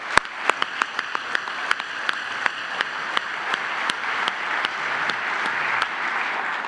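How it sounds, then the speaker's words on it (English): An audience at a football awards ceremony breaks into applause honoring a charity, a dense wash of many hands clapping for several seconds with a few sharp nearby claps standing out, steady and fairly close. "Let's give the Heart Association a round of applause"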